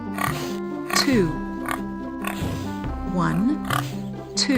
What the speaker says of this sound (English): 2 pigs.